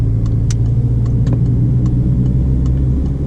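Car pulling out of a junction in town and accelerating: a steady, loud engine rumble with a low drone close by and faint clicks over it, no talk.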